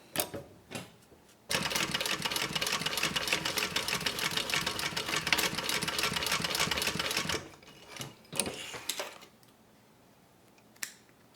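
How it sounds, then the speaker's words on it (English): A sewing machine stitches a unisex bag, a close, rapid, continuous mechanical rattle running for about six seconds, bracketed by softer handling clicks before and after. "So let me just go ahead and stitch this here."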